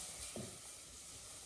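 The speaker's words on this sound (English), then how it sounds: "So that's sizzling away nicely." Onions and seasoning frying in a pan give a soft, steady sizzle and hiss, faint and continuous, with a brief stir-like rustle near the start.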